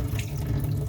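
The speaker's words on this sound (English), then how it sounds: "So just take this and rinse out the water." Water runs and splashes as a plate is rinsed at a kitchen sink, a steady close-up rushing and trickling for under a second.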